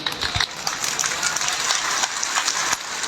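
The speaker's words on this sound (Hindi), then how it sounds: "बस इतनी तालियां बजनी थी" An audience at a poetry gathering (kavi sammelan) at a college in Rudrapur claps and applauds steadily, a dense patter of many hands that holds at an even level throughout, with no speech.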